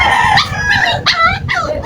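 A dog lets out a series of wavering, rising-and-falling howls at close range, three or four drawn-out cries in quick succession with no other sound over them.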